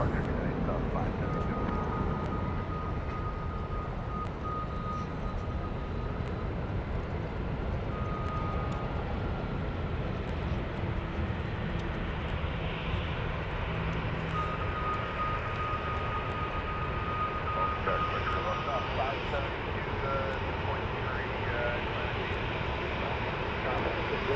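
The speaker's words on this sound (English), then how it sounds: "So we've got a Learjet about to touch down." A Learjet touches down at Dallas Love Field, a steady distant jet roar and engine whine that stays even throughout, with people talking over it.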